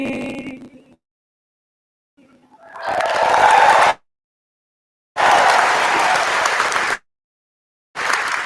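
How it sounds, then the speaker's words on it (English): Bursts of audience applause at a university commencement ceremony, loud and sustained, in three separate rounds broken by short silences. "Let's give Amy another big round of applause."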